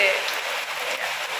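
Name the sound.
heavy rain falling outside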